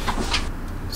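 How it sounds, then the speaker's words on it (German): A Mercedes-Benz O405 bus door in the OMSI 2 bus simulator game opens with a brief pneumatic hiss and clunk, a short loud burst that fills the moment. "Tür auf."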